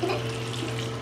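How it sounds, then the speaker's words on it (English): Water runs steadily from a tap over a person's head during a hair wash, a continuous close hiss of splashing flow filling the whole moment with no talking. "we are in the process of washing her hair"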